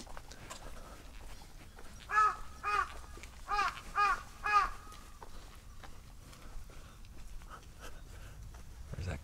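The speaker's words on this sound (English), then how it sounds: "Where's that crow?" A crow caws several times in a row, a series of harsh, clear calls from a moderate distance, set against quiet residential outdoor ambience in a Japanese neighborhood during a walk.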